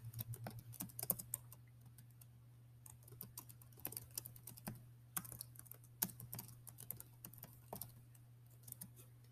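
Quiet, irregular clicking of keys on a computer keyboard, short bursts of typing with small pauses, with no talking.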